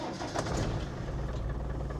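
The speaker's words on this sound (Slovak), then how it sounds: "Typické pre tieto motory 300 TDI, že naštartujú hneď na prvý zub" A Land Rover 300 TDI diesel engine cranks and catches at once, settling into a steady low idle rumble that runs close and continuous throughout.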